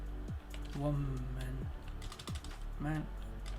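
Computer keyboard typing on a podcast set, quick clicks scattered under loud overlapping voices talking nearby, the keystrokes light and partly buried.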